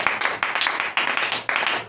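A church congregation claps together in praise during worship, the sharp bursts coming in a quick, regular rhythm of about four rounds in two seconds, loud and close with no talk over them.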